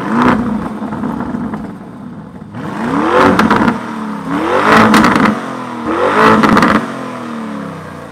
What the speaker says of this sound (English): So it just allows much more exhaust noise.